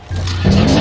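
A car in the Car Crash Simulator video game drifting on its handbrake, giving a short, loud tire skid with a steady low engine drone that grows harsher partway through, with no talking.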